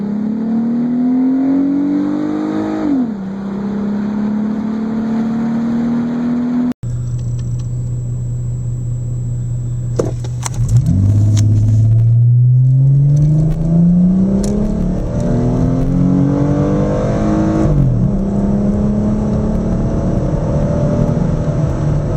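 Dodge Charger with a 2.7L V6 accelerating hard from 0 to 60, engine droning up through the revs with a clear gear-change drop, then a pause before a second loud, rising run.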